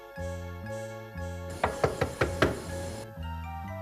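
Five sharp knocks land on a door in a quick, slightly uneven burst, loud and close, set between stretches of sustained musical tones from a drama soundtrack.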